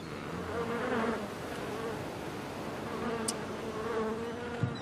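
A dense, steady buzzing of many bees on an island hums faintly and continuously, with no voices.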